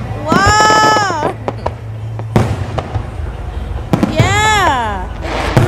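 Large Fourth of July fireworks booming in a show, a few loud bursts with whistling streaks and crackle, separated by short lulls, with no voices.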